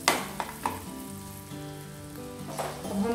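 Cashews frying in a pan for a no-onion, no-garlic palak paneer kofta: a steady soft sizzle with light crackle and a few sharper clicks of the pan, close and continuous, with no talk.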